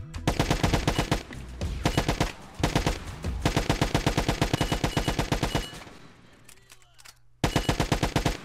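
Automatic gunfire from non-player characters in a GTA STALKER CRMP multiplayer game, with rapid loud bursts of shots in several long strings, a quieter rattling lull, then another burst.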